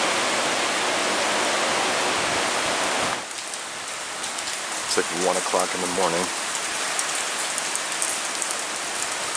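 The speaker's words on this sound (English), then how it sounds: "it's just pouring out here" Heavy, steady rain from Hurricane Ian roars loudly, then drops to a lighter hiss of pouring rain as a person speaks briefly over it.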